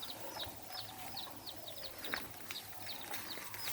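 A hen clucks softly and repeatedly while her seven small chicks peep in quick high chirps, close by over a quiet outdoor garden background.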